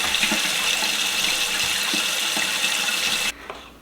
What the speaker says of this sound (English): it is currently running under cold water to get it thawed out so we can add it to this recipe